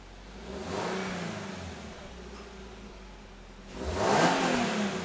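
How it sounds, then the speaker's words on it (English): A Toyota GR86 engine with a JDL UEL header revs loudly twice through a stock exhaust, a deep rising roar near the start and another louder surge near the end, with a steady idle between. "Yours is way louder, like way louder than you would think for a stock exhaust."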